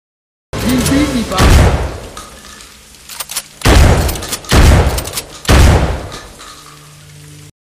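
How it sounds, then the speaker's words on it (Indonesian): Gunfire rings out in a scene from the action film Copshop as a policewoman is shot. Four heavy, loud, booming blasts come at uneven intervals, each trailing off into a reverberant decay. "Vidik tiba-tiba kembali muncul, menembak si polisi perempuan"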